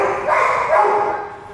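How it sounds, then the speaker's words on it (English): A shelter dog on an animal shelter's adoption floor barks in a short burst of two or three close, fairly loud barks with a brief whine-like tail. "It's a nice dog."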